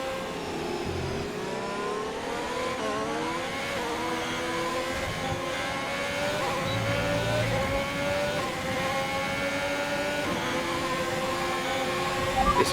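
F2 race car engines roar continuously in the F1 2021 video game, a loud, steady high-pitched whine with rising and falling pitch as the cars accelerate and shift, with no one talking.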